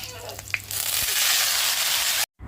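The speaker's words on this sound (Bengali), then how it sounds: "আগে করলা ভাজাটা বসিয়ে দিই" Bitter gourd slices are dropped into a hot pan, starting a loud, close sizzle after a few faint clicks. The hiss of frying oil keeps going steadily until it cuts off abruptly.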